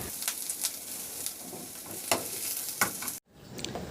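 Carrots and cabbage stir-frying in oil in a pan, a steady close sizzle with scraping stirs every half second or so, cutting out abruptly near the end before a softer sizzle resumes.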